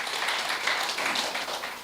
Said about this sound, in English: can we have a round of applause for the directors also?